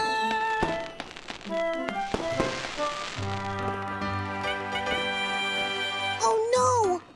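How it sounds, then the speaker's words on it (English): Cartoon fireworks for a Lunar New Year celebration: a flurry of sharp pops and crackles at the start, then sustained musical tones and a rising whistle-like sweep near the end. "Oh no! I'm missing the fireworks!"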